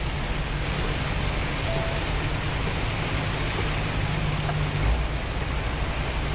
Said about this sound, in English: This rain is coming down hard.